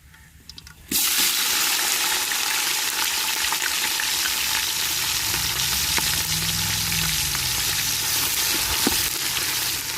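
Sliced large onions and green chillies fry with curry masala in hot oil for a mutton biryani. After a quiet first second, a loud, continuous, close sizzle runs throughout, with faint stirring scrapes. No talking.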